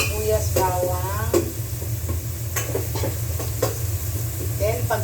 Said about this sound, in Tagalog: Niluluto ko na ang sibuyas bawang